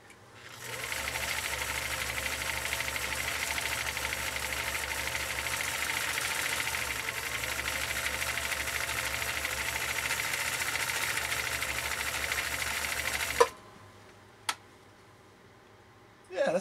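A vintage Swedish sewing machine stitches a pattern set on cam A in one continuous, even mechanical whir for about thirteen seconds, close up, then stops with a couple of sharp clicks.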